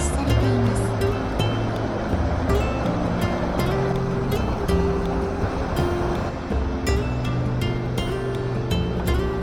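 A waterfall in the Kumamoto–Oita region of Kyushu, a walk-behind falls, pours with a steady loud rushing roar, joined by intermittent tonal music-like notes over the water noise.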